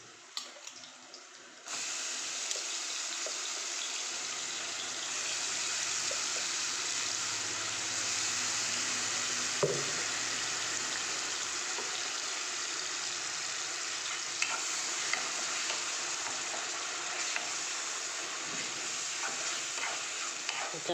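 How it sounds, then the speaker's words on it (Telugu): A paste of ginger, garlic, cumin, coriander and tomato frying in oil for a fish curry, a soft steady hiss that swells after a quiet start and runs on with faint stirring scrapes. "చక్కగా నూనెలో ఫ్రై అవ్వాలండి పేస్ట్ అల్లం వెల్లుల్లి అల్లం వెల్లుల్లి జీలకర్ర ధనియాలు ఇంకా టమాటా వేసిన పేస్ట్"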